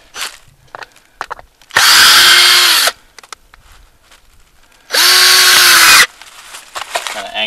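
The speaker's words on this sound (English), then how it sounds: "get through it with the drill" Cordless power drill driving screws into pallet wood for a pig house, two loud sustained whirring bursts of about a second each, separated by quiet handling clicks and knocks.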